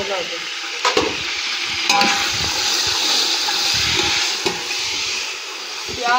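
Onions fry and brown in hot oil for chicken pulao, a steady sizzle under repeated scraping stirs of a spoon against the pot, with a few brief sharper knocks and no clear talk.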